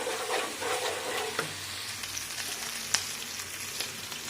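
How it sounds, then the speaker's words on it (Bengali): Ginger, garlic and Kashmiri red chilli paste sautés in hot oil for a dum biryani, giving a steady, close sizzle with a few sharp stirring clicks and spoon taps throughout. "যে আদা রসুন আর কাশ্মীরি লাল লঙ্কা মিক্সে রেখেছিলাম ওইটা দিয়ে দিচ্ছি। এইটাও হালকা করে একটু কষে নেব।"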